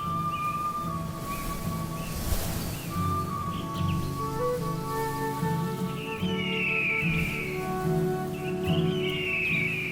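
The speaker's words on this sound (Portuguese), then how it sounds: "Um chamado de acasalamento ecoa do topo mais alto das árvores" Bird calls drift down from high in a rainforest canopy, several whistled and trilled phrases repeating over a soft, continuous background of rustling and ambient forest hum, moderately distant.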